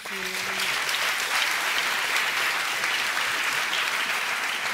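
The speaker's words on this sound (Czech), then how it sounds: "Já jenom tleskám tady jako bytost." An audience at a discussion event gives a sustained, dense round of applause, loud and steady throughout, with a brief voice at the very start.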